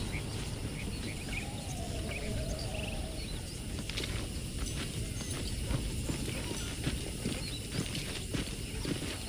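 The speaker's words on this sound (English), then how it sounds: "The horses are saddled up over here." Horse hooves clip-clop steadily in the Red Dead Redemption video game, a continuous dense patter over rustling outdoor ambience with faint bird calls; no talking.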